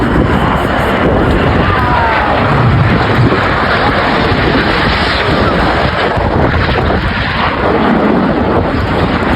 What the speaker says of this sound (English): Each aircraft performing a barrel roll, passing in the middle.